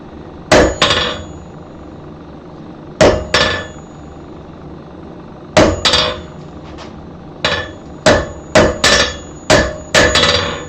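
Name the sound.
hammer forging notches in hot steel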